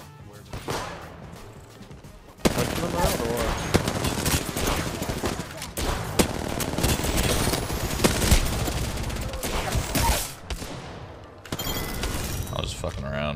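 Gunfire rattles through an Apex Legends match in rapid bursts and volleys, loud and close, with a long sustained barrage in the middle and people talking over parts of it.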